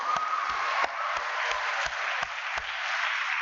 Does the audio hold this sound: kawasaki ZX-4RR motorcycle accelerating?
no